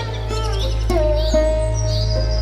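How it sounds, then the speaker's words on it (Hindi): Eerie cartoon bird calls echo through a deserted forest, a few scattered chirps and thin whistles over a steady low hum, moderately loud with no voices. "पक्षियों की डरावनी आवाजें और चारों तरफ अजीब सन्नाटा फैला हुआ"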